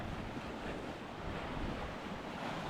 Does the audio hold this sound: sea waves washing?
yes